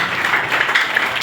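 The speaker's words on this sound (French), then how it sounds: "Applaudissons notre Dieu parce qu'à cause de lui," An audience applauds at a party anniversary celebration, a short stretch of dense, steady clapping with no break.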